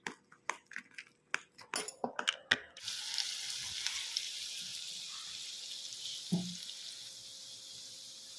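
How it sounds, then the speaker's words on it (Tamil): Pepper vada batter drops into hot oil and sizzles steadily, preceded by a series of sharp clicks and taps, with a soft clunk near the end and no talking. "எண்ணெயில் இந்த மாதிரி போட்டு பொரிச்சு எடுத்துக்கலாம். இந்த மாதிரி வடை சுட்டு எடுத்துக்கணும்."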